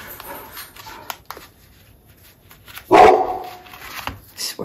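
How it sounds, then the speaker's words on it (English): A protective dog in a home crafting space barks once loudly and close, preceded by a few faint yips and followed by a shorter bark. "Sorry about that. That's my dog."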